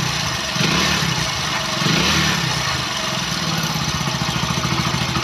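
A motorcycle engine idles steadily after a kick start, its engine sound having previously been faulty; a close, even mechanical chugging with a slight swell partway through, no talk.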